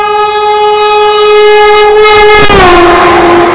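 A Vande Bharat Express sounds a loud, sustained horn as it passes at close range, the tone dropping in pitch midway through, over the rumble of the train.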